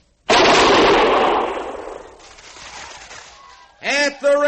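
A rifle volley fired by a squad of soldiers in a Western radio drama set at Fort Laramie, one loud crack whose rumble fades slowly, then a voice comes in.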